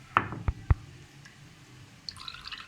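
Water poured over rice after it has been rinsed to remove bitterness: a few short splashing drips and knocks near the start, then quieter trickling and a faint clink, with no speech.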